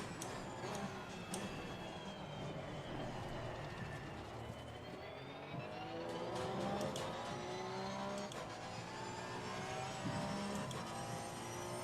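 A GT race car in Assetto Corsa Competizione loses rear grip, its tyres squealing in rising and falling whines over a steady, loud engine drone, with no talking.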